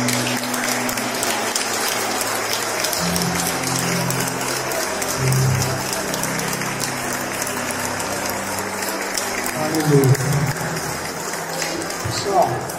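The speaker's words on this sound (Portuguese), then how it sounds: "Vamos aplaudir o Senhor." A church congregation claps loudly and steadily together in praise, dense sustained applause filling the room with voices and music murmuring underneath.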